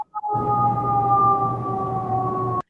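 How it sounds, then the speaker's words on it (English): An ambulance siren sounds downtown as a steady, sustained wailing tone, fairly loud and continuous for a couple of seconds before cutting off abruptly, with no talking over it. "Ambulance?"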